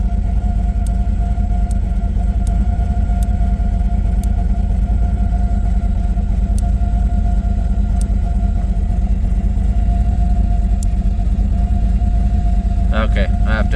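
An LS V8 engine in a Monte Carlo idles with a steady low rumble throughout, loud and close, with a brief clatter near the end.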